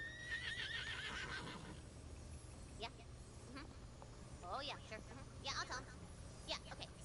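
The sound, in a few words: horse Butt Stallion neighing, from a video game (Wonderlands)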